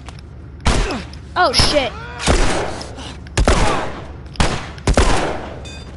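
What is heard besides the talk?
gunfire in the video game The Last of Us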